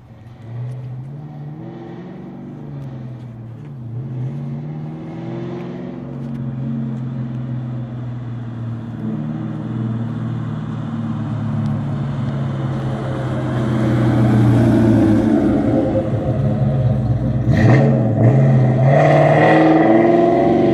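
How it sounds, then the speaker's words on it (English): A Ford Mustang engine rumbles low and idles nearby, then revs harder and grows louder as the car drives past, with a strong rising roar near the end. "Boy, them Mustangs sound good."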